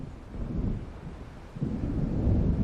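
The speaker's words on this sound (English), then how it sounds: "It seems there's a storm coming." In the video game Alan Wake, thunder from an approaching storm rolls as a deep, low rumble, swelling twice across a few seconds, heavy and continuous with no voices.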